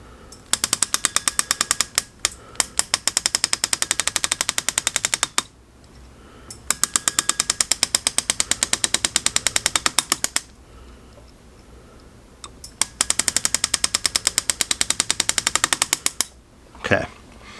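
An LPFG pneumatic engraver cuts into a hand-forged ring, sounding as rapid, sharp mechanical tapping in three long bursts separated by brief pauses, close and loud, with a short thump near the end.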